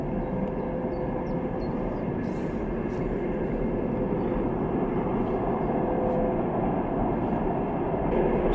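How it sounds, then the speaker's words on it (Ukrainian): A train passes in the distance on a quiet day, heard from a historic cemetery in central Kyiv as a steady, even low rumble that fills the whole stretch with no talking. "Сьогодні тиха погода, тому дуже чується, їде потяг."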